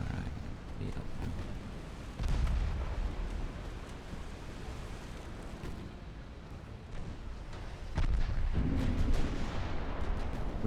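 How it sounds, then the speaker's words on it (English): A torpedo strikes a warship in the naval battle game Ultimate Admiral: Dreadnoughts, heard as a deep, rumbling boom that swells twice over a continuous low roar of battle, loud and sustained with no talking. "We got another torpedo hit."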